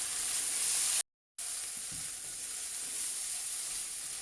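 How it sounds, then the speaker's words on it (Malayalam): Kerala duck roast sautéing in a pan over high heat gives off a steady, close sizzle and hiss that cuts out briefly before continuing evenly. "ഇനി ഒരു മിനിറ്റ് കൂടെ നമുക്ക് ഒന്ന് വഴറ്റിയെടുക്കാം നല്ല ഹൈ ഹീറ്റിൽ"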